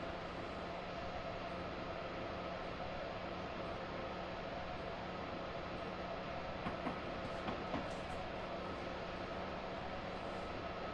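Amtrak Vermonter passenger train running at full throttle between New York and New Haven, a steady loud rumble and wheel roar throughout with a few faint rail clicks near the end, no voices.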